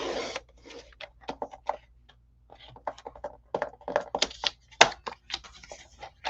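A paper cutter sliding across paper for a diagonal cut during card making, with close, short clicks, taps and scraping strokes separated by quiet gaps.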